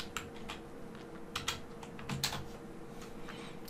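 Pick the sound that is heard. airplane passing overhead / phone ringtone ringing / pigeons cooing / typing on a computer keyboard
typing on a computer keyboard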